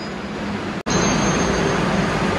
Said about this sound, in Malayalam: മെട്രോ മെട്രോ വന്നു കേട്ടോ. കയറാൻ പോവാണ്.